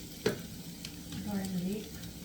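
Garlic sautéing in a pan for a fish curry, a quiet, soft sizzle with a brief scrape of stirring near the start, heard close but faint, with a voice murmuring faintly in the background.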